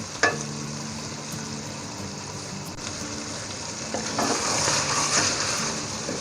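Boiled mutton is fried in a pot, a steady close sizzle with a sharp clatter at the start and stirring scrapes, the frying growing louder and busier toward the end.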